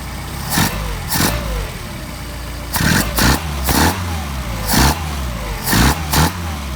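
A Mercedes 190SL engine with freshly adjusted Solex carburetors is revved repeatedly, sharp throttle blips rising over a steady idle in a rhythmic series of about eight bursts, close and loud with no talking.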